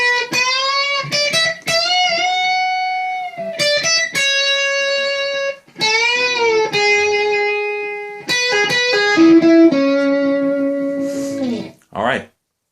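Electric guitar plays a solo line, a long run of sustained, singing notes with slides and a few quick staccato picks, loud and continuous with brief gaps, ending on a sharp noisy pluck.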